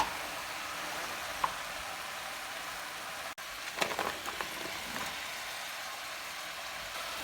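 Vegetable stew cooks in a pot over medium-high heat with a soft, even sizzle throughout. A few brief stirring knocks and scrapes come in the second half, and no one speaks.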